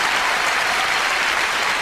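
Dense, steady audience applause during a performance, a close, continuous wash of many hands clapping with no pause.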